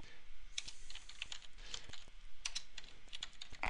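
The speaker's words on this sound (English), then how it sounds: "I've been typing." Rapid keystrokes on a computer keyboard during desktop use, with irregular clicks and short bursts of typing that stay close and fairly steady throughout, with no talking.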